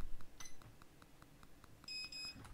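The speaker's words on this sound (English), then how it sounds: "So you get that red beep, so it won't let you reprogram when it's locked." Faint electronic beeps from a Vaultek Lifepod safe lock refusing reprogramming while locked sound in a short series, thin and high, with a brief rapid burst near the end over a quiet background.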